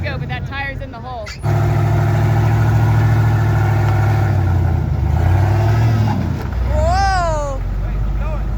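A monster truck on 54-inch tires strains to climb, its engine a loud, steady mid-pitched drone that surges after a brief lull and holds for several seconds, with excited voices talking over it near the end.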